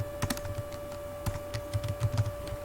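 Typing on a computer keyboard, with irregular clicks and small quick bursts of keystrokes close up over a faint steady hum, with no talking.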